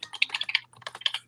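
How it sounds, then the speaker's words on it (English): Rapid keyboard typing picked up through an open microphone during an online author interview, two quick bursts of clicking keys with a short pause between, close and fairly crisp. "I think you're typing and I think your mic is on."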